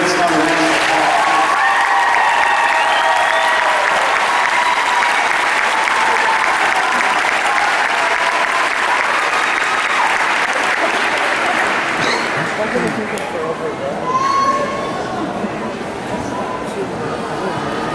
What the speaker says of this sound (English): give these graduates another round of applause